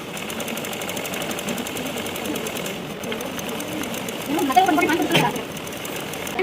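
A sewing machine stitches a Punjabi dress during a tailoring class, a steady close mechanical whir and rattle that grows busier toward the end, with faint background voices.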